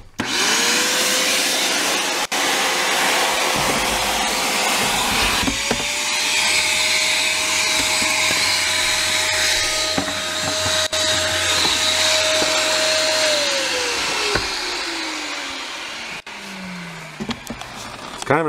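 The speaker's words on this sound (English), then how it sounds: "You're going to hear the vacuum turn on." A vacuum cleaner switches on and runs loudly and steadily at close range while cleaning inside a Saturn Vue center console, its motor whine holding level before winding down near the end.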